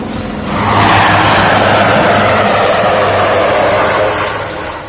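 A loud, close Indian LCH military attack helicopter roars with steady rotor and engine noise, a broad continuous rumble holding for several seconds.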